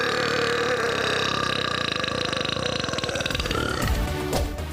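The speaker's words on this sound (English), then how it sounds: "Paul's champion burps can reach up to 109 decibels." A champion-level loud belch, one long continuous burp ripping out at close range for nearly five seconds, deep and rasping with a rough growl throughout, tailing off near the end.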